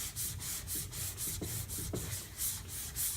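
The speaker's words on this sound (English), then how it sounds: "So Juan wanted to sand the hood." Hand sanding on the curved fiberglass hood of a 1976 Corvette, a close, rhythmic back-and-forth scraping of abrasive board strokes, steady and unaccompanied by talk.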